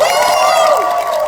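A crowd at a live stage show erupts in a loud, sustained cheer with whooping voices, steady and close throughout the short burst.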